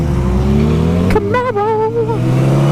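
A Chevrolet Camaro engine revs loudly and accelerates nearby, with a rising and wavering engine tone; a brief vocal sound overlaps partway through.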